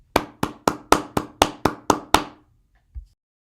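Eight sharp, evenly spaced claps ring out close and loud from the ogre parents in a children's tale, followed by a short pause and one faint soft thud.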